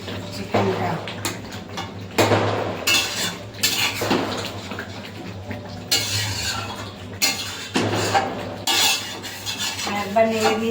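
A metal spoon stirring and scraping chicken kosha in a cooking pot, with repeated clattering strokes at an uneven rhythm over a steady low hum, close and fairly loud.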